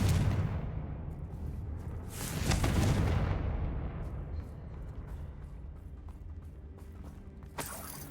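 Confringo fire blast spell in the Hogwarts Legacy video game, a heavy rumbling explosion that swells and booms, then fades into a lingering low roar with a sharp crack near the end.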